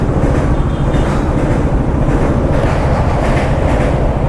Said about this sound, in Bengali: এই দেখো ট্রেনটা যাচ্ছে আর পুরো ব্রিজটা কাঁপছে পুরো।